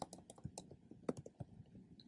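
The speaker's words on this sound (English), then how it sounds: "The first way is just typing Google Play Store." Fingers type on a Chromebook keyboard in a quick, irregular run of light plastic key clicks, close and quiet, with no talking.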